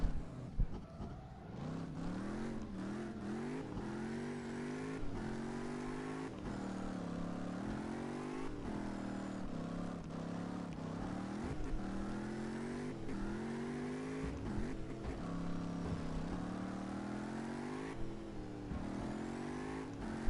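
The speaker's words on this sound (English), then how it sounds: "it's supposed to sound like a inline six" An inline-six car engine in a drifting video game revs continuously with a smooth, buzzy tone, climbing and dropping through the gears as it accelerates, steady and sustained throughout.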